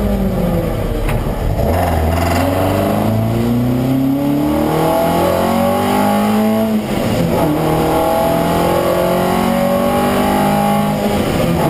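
A 2014 Alfa Romeo sports car drives hard and revs loudly nearby. Engine pitch climbs repeatedly through the gears in rising sweeps, dips at each shift, then climbs again, with a constant roar throughout.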